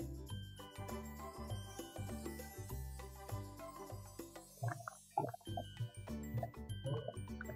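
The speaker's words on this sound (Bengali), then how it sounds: "তো জলটা দিয়ে খুন্তি দিয়ে আমি নাড়িয়ে দিলাম হালকাভাবে।" A spatula stirs chicken curry with added water in a pot, giving soft scrapes, clinks and liquid sloshing at close range amid faint kitchen noise.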